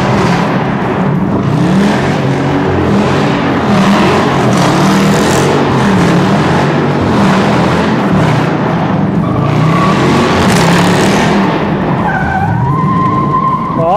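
A Dodge Challenger doing a burnout, its engine roaring steadily while the tires screech loud and close throughout, with a high squeal rising near the end.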